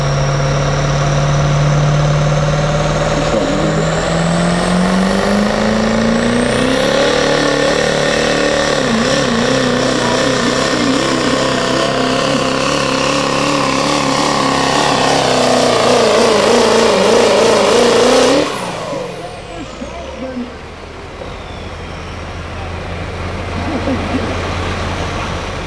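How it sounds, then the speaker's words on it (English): A pro street diesel pulling truck at a pulling event growls down the track, its loud engine note rising and straining for most of the run before cutting off abruptly, leaving a quieter idle as a commentator talks over it. "Now just listen to the way this thing growls as it goes down the leg."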